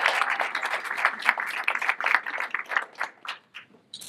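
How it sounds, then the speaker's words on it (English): Audience applause at a university Coming Out Day panel, a moderate burst of hand clapping heard alone, fairly steady at first and then thinning and fading out toward the end. "Can we give another round of applause for Mia Card?"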